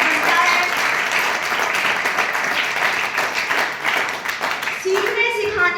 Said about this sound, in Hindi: उनका एक बार जोरदार तालियों से स्वागत करता है